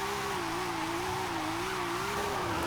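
A beefy car engine in Forza Horizon 5 holds a steady, loud drone at a sustained rev with slight pitch wobble, alone and close throughout.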